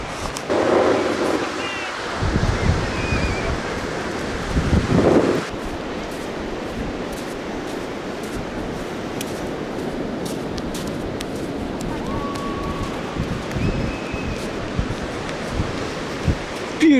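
Waves wash onto the beach at Whitsand Bay under gusting wind buffeting the microphone, a steady broadband roar that is heavier in the first few seconds, with faint rustling and no clear talk.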